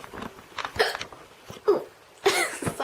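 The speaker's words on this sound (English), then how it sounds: "I have the hiccups." A person hiccups several times in a short, irregular series, each one a sharp, close, fairly loud vocal catch with brief pauses between them.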